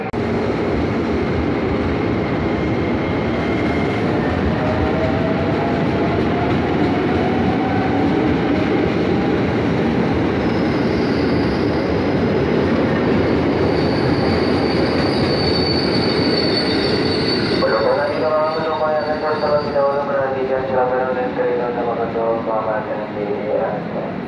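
A train moves along platform 2 at Matraman or BNI City Sudirman station in Jakarta, a loud continuous rumble with wheels squealing and screeching throughout, the squeal growing sharper and wavering near the end.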